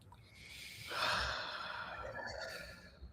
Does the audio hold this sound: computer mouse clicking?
no